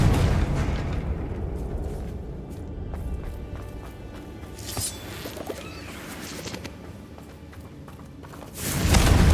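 A Confringo explosive spell cast in Hogwarts Legacy, heavy booming blasts over a rumbling battle backdrop, with a loud surge of explosion noise rising at the end.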